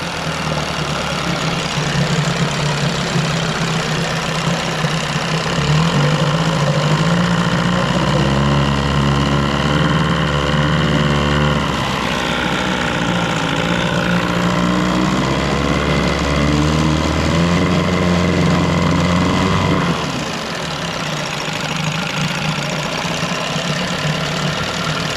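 1990 Evinrude 9.9 outboard motor running in gear with its idle raised slightly, giving a loud, continuous close-up drone with a steady rough pulse that stays unbroken the whole time.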